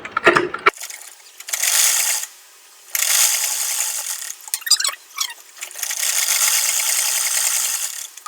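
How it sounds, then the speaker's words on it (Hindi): A sewing machine runs straight stitching on puffy sleeves in several bursts of steady whirring mechanical rattle, close and loud, with short pauses between runs. "लगाएंगे सीधी सिलाई।"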